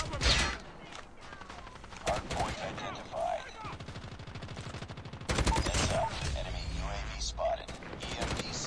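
Rapid automatic Kilo 141 rifle fire in the Call of Duty Mobile shooter, several dense bursts of shots with someone talking over the gameplay between and during them.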